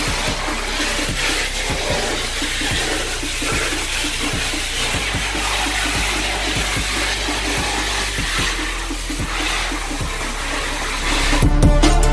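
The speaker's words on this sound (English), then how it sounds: "she's rinsing now with hot water" Hot water rinsing bathroom floor tiles, a steady loud wash of spraying, splashing water with repeated small knocks and scrapes underneath, swelling briefly louder near the end.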